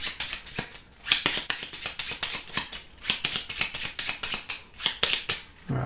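Cards for the board game Raiders of Scythia being shuffled, a rapid run of crisp riffling snaps and flutters close by, repeated in quick bursts with brief pauses between them.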